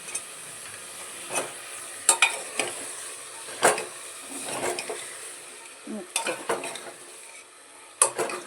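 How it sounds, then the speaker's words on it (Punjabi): A spoon or ladle stirs a potato and carrot curry in a cooking pot, giving scraping strokes and soft metallic clinks at an irregular pace over a faint sizzle. "ਸੁਪਰੀਆ ਡੰਡੀ ਮੈਂ ਹਲਿਆਵਾਂ"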